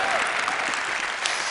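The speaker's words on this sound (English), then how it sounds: "if you guys could just clap your hands a little bit more" A brief, dense burst of applause from an audience, loud and close, lasting just over a second.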